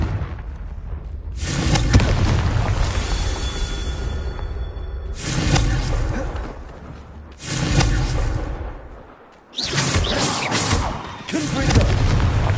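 Confringo blasting spell explosions in Hogwarts Legacy, four loud booming bursts each followed by a long rumbling decay, spaced a few seconds apart, with a brief quiet gap between the last two.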